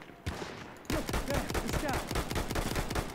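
Rapid gunfire in Battlefield 1, a dense run of sharp repeated shots that starts abruptly and keeps going near and loud with no pause, a quieter stretch of game noise coming first.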